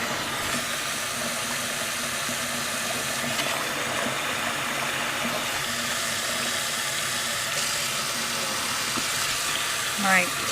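Water runs steadily from a tap into a sink, a continuous broadband rush that stays loud throughout with a brief gurgle near the end.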